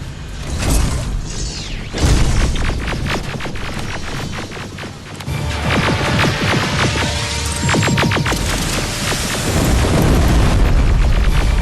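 Loud rocket blasts and booming explosions in the Terminator: Resistance video game, several heavy bursts rolling one after another over about twelve seconds with rumbling, crackling debris between hits.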